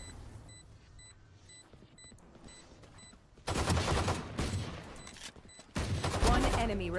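Gunfire from the video game Valorant plays in two loud bursts of rapid shots after a quieter stretch of faint beeping game sounds.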